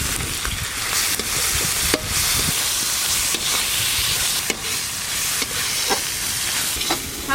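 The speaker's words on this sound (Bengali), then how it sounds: "সব মশলার সাথে কেটে ধুয়ে রাখা ক্যাপসিকাম দিয়ে সব কিছু একসঙ্গে ভালো করে একটু নেড়ে নেব।" A pan of tomato, spices and chopped capsicum hisses steadily as it is stirred, with a constant bright sizzle and repeated scraping strokes of the spoon, close and fairly loud, no voices.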